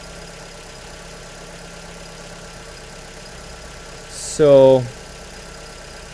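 A car engine idles steadily while warming up, with a low, even hum throughout and a single spoken word near the end.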